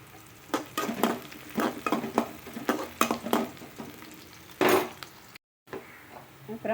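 Onion and curry leaves sautéing in a pan, with a steady sizzle broken by repeated sharp scraping stir strokes close by and a brief break near the end.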